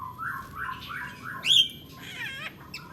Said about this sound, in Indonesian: Ini burung resiskin, burung impor untuk masteran murai juga atau burung-burung ocehan.